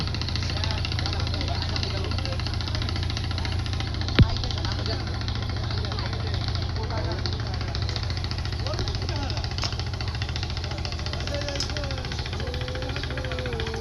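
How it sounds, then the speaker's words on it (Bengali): A large river boat's engine runs steadily on the Hemadpur river by a tannery, a continuous low droning hum under faint background sounds, with one brief sharp knock partway through. "বিশাল বড় একটা নৌকা যাচ্ছে।"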